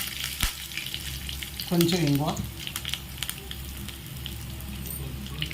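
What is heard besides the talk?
tempering spices and curry leaves frying in oil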